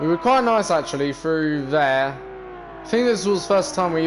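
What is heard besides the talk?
No distinct noise like a dog, phone or traffic.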